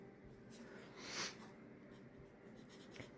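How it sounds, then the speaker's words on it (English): A pen or pencil writes out a definition by hand, faint soft scratching strokes close up, with one brief louder scrape in the middle against quiet room noise. "So I'm gonna write that out."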